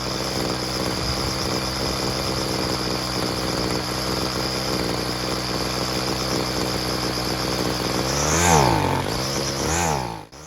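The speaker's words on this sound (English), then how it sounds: "The delay that you just heard in going from idle to top speed is due to the low end adjustment being too lean." Two-stroke weed eater engine running lean on its low-end adjustment, buzzing steadily at idle, then revving up to top speed with a rising whine that falls back at the end, loud and close.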